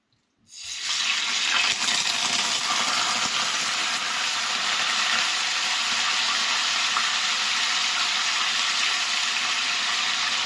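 Loud, steady sizzling hiss that starts suddenly and holds constant as tofu is dropped into hot oil, crackling evenly throughout with no voices.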